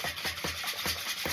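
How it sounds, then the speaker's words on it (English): Tupperware whisk beating an egg mixture for frittata mini quiches, a quick rhythmic scraping swish repeating about every fifth of a second, steady and close with no talk. "So we'll just whisk this into here."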